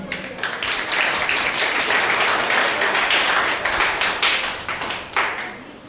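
A church congregation at a Sunday service claps loudly together, a dense, sustained burst of applause that fills the room and tapers slightly toward the end.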